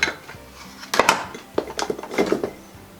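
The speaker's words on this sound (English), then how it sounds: "I actually use my little mixing tray." A makeup mixing tray clinks and clatters in quick, close, bright knocks and taps, with a few louder strikes spread across the moment and no voice over them.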